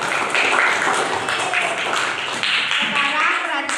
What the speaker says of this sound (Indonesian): Tepuk tangan untuk Fatih dan Naila.